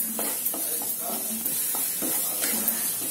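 Spice powders fry and get stirred in a pan for a chole palak curry, a soft steady sizzle with scraping strokes of the spoon, close and fairly quiet.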